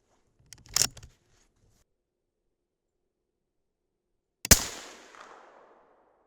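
A 6.5 Creedmoor rifle loaded with IMR 4350 powder fires a delayed hang-fire shot: a faint click and brief rustle, a long quiet pause, then one sharp loud report whose echo trails away.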